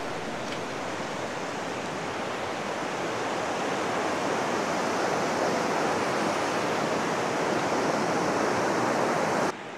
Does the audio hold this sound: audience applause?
no